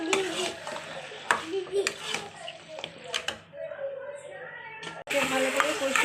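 Chicken and potatoes sizzle while being stir-fried for Bengali chicken kosha in a pan, with soft frying hiss, occasional spoon scrapes and knocks against the pan, close and moderately quiet, ending in louder sizzling.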